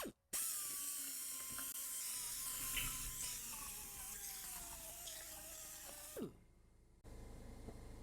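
A cheap Harbor Freight polisher buffs a car headlight with clear plastic polish, a steady high-pitched mechanical whir running continuously and close, its pitch drifting slightly before it winds down and stops near the end.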